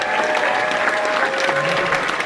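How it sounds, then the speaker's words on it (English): Sustained, dense applause from a seated audience at a 2020 Junior BassMaster National Championship tournament briefing, steady and full from start to finish with no talking over it. "Everybody give yourself a round of applause."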